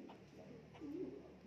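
A trained laughingthrush gives a soft, low warbling call in a quiet indoor setting, closing with one rising phrase.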